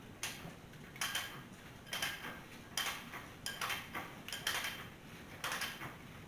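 A hand pipe cutter starts biting into rigid conduit, giving quiet, irregular metallic clicks and scrapes in short bursts as the tool is pushed and turned, close by with no voices.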